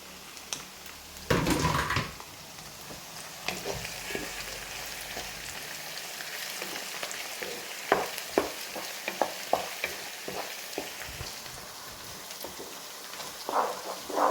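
Dried red chillies and curry leaves hit hot frying oil for a Kerala-style mango pickle, giving a bright crackling burst near the start, then a steady close sizzle dotted with sharp pops and stirring clicks.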